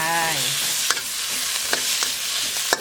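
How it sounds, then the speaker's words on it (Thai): Pork, including dried oven-roasted pork, stir-fried in plenty of hot oil for a dry northern Thai kaeng khae curry, with a steady close sizzle punctuated by a few sharp scrapes of the spatula. "ผัดไปเลยค่ะ"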